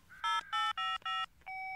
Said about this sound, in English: I'll phone Bob right away and ask him to keep it safe.